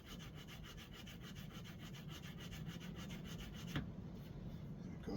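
A wooden bass guitar part is hand sanded with a coarse sanding rubber in steady back-and-forth strokes, a rhythmic rasping scrape that repeats evenly and faintly throughout.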